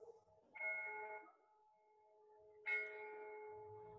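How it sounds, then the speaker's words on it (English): Church bells in the small lakeside town of Orta on Lago d'Orta, northern Italy, ring two distant, clear strikes that hum and decay slowly, faint and alone. "Church bells ring."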